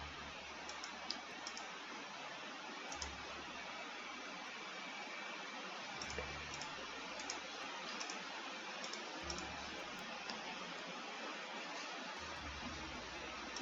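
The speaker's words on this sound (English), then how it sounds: "I'm just clicking like a bad person" Rapid mouse clicking while managing commanders in the Field of Glory 2 strategy game interface: faint, light, irregular clicks over a steady hiss.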